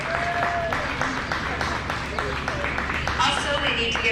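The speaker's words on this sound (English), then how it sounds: "Would you please give our judge a big round of applause?" Audience at a county fair 4-H/FFA rabbit show applauds the judge, steady clapping with crowd noise and some voices mixed in throughout.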